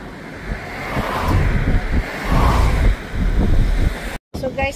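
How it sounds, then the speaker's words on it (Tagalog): Strong ocean waves breaking at Sao Conrado Beach in Rio de Janeiro, a loud roaring surge and wash heavy with wind buffeting the microphone, briefly cut near the end. "nandito kami sa Conrado Beach, pero napakalakas ng wave"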